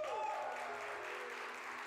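Church audience applauding together in a steady, dense wash of clapping that fills the room, with a faint sustained tone lingering underneath.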